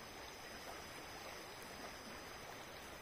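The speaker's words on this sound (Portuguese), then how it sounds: "Olha só aqui a largura do rio, olha." A wide river between Viçosa and Martins runs high with a lot of water, giving a steady, even rushing wash with no breaks and no voices, fairly faint and consistent throughout.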